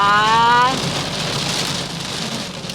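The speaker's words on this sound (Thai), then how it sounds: "ฝนจ้า" Heavy rain pours down in a loud, steady hiss at a dam while camping at Phu Thap Boek, Thailand. A voice speaks briefly at the start over the downpour.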